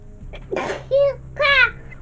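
A single sneeze bursts out during a tabletop role-playing game session, preceded by a short breathy intake and followed by a voiced vocal sound, close and fairly loud.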